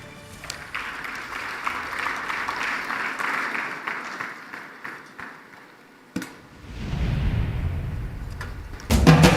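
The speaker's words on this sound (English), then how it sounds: "A round of applause." Audience applause at the Mission 300 Africa Energy Summit rises in a broad steady wash for several seconds, briefly breaks off, then resumes with a low rumbling swell and a louder burst near the end.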